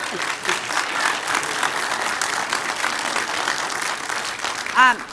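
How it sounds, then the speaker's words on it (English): Members of the public applauding at a city council meeting, a steady, moderately loud patter of many hands with voices mixed in. "If I can ask the members of the public, please refrain from applauding."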